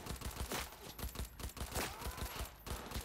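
Rapid automatic gunfire in a Cyberpunk gunfight, dense repeated shots in quick bursts with brief pauses, loud and punchy throughout.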